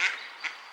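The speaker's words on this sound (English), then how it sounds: "No laughing ducks anymore." A duck gives two short, bright quacks, spaced about half a second apart, close and fairly loud over quiet outdoor background.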